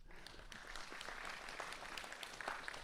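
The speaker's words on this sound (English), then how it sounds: "So please give yourself a clap, please." Audience at a community candidates' meeting claps in a loose, moderately sized burst, individual hand claps distinct within a steady patter that holds for a few seconds.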